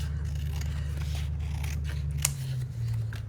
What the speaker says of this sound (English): And then we're just going to trim this.